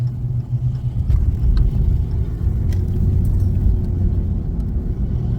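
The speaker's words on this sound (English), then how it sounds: "Oh, truck coming." A truck drives past on a bumpy road, a steady low rumbling engine and tire roar that stays loud and close throughout with no speech.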